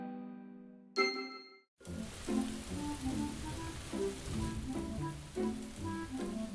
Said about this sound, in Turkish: Oh tanrım şu yağan yağmura bakın.